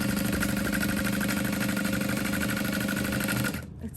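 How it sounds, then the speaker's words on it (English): A sewing machine stitches clear vinyl for a tote bag, its steady rapid mechanical whirr running loud and even before cutting off abruptly near the end. "Make sure you're doing a little bit of back stitch at the top so they don't come loose."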